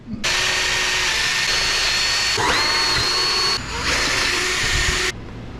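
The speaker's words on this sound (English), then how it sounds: "drill a 7/32 hole at the marked locations through the pod and the factory A-pillar" A power drill with a 7/32 bit whines loudly and continuously up close, its pitch dipping and rising as it bites through a gauge pod and car A-pillar, then cutting off abruptly.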